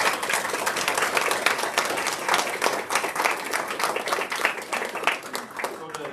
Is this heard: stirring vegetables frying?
no